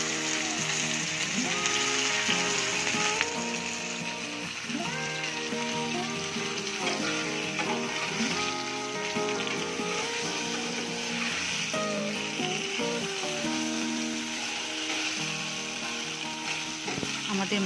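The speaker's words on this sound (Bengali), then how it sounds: "এইবার কড়াইটা গরম করে তাতে তেল দিয়ে মাছগুলো আমি" Koi fish (climbing perch) sizzle as they fry in hot oil in a kadai, a steady hiss and crackle running under background music.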